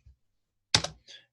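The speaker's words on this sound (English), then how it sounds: "I keep on typing it in Hebrew." A few quick keystrokes on a computer keyboard, a soft click then a short louder burst of taps, close and isolated in quiet.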